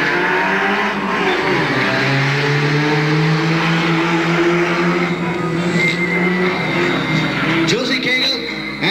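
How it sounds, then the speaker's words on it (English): Several Chevette cars revving and maneuvering together in a two-car precision stunt driving show, engines droning loudly and continuously with shifting pitch and a brief tire squeal near the end, crowd noise underneath. "They'll put these Chevettes through their paces."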